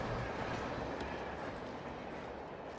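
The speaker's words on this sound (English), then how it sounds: "Oh, is that a train? Can I jump on it?" A train rumbles past in the video game Alan Wake, a steady, dense low roar with a faint rail clatter, close and continuous with no talk over it.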